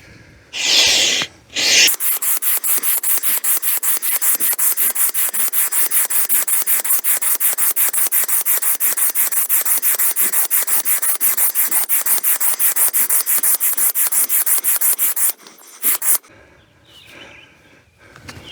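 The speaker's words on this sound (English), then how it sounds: "going to inflate this rib to 2 pounds per square inch" A hand pump inflates the side rib of an Advanced Elements Island Voyage 2 inflatable kayak with rapid, steady rhythmic rasping strokes that continue for about thirteen seconds, loud and close, starting and ending with brief handling noises.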